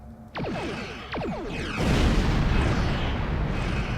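Starship weapons fire in the Star Trek Online video game, with two descending energy-beam zaps followed by a loud, sustained rumbling explosion that fills the space until the end.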